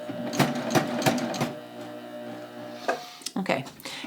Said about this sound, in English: I'm going to start serging for about, I don't know, between 1/4 and 1/2 inch.